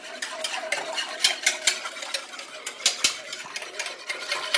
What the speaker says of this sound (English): And you just want to keep stirring.